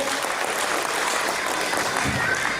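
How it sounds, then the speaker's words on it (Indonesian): A crowd claps steadily, dense applause filling the whole moment without a break. "Tepuk tangan dulu"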